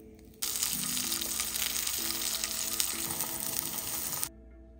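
Chopped onion sizzles and fries steadily in hot Wagyu beef fat for a smash burger, a loud, dense crackle running without pause for about four seconds before cutting off.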